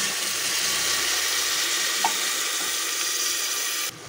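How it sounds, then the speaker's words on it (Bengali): Steady sizzle of raw onions frying in a pot for mutton biryani with a little water added, a continuous hiss with a faint clink midway. "এই পেঁয়াজের মধ্যেই কিন্তু আমরা দিয়ে দেবো সামান্য একটুখানি জল"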